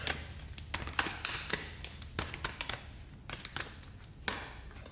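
A deck of tarot cards being shuffled by hand close up, with quick crisp riffles and soft slaps of cards in uneven bursts.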